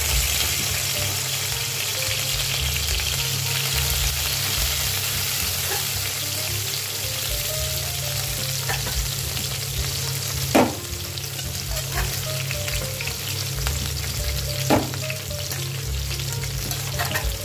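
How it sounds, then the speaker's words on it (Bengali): Small pieces of dried fish with salt and turmeric fry in mustard oil, a steady close sizzle with occasional stirring and a couple of sharp clinks of a utensil against the pan. "দিয়ে ভেজে নিচ্ছি মাছগুলো আগে ভালো করে"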